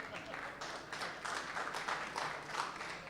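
Scattered audience applause at a Final Cut user event in Montréal, fairly quiet clapping from a small room that swells in bursts, with voices mixed in.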